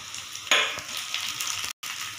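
Drumsticks frying with onions in a pan give a close, continuous sizzle, with a brief stirring scrape early and a short cut to silence near the end.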